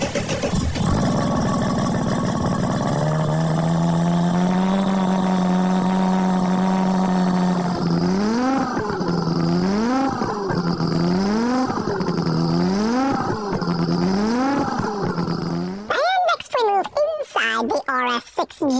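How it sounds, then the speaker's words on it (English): An Audi 90 IMSA race car's five-cylinder engine with side exhaust idles loudly, then revs in a series of rising and falling blips, ending in sharp crackling revs; close and loud. "even though it's only a 5-cylinder engine, it's quite loud"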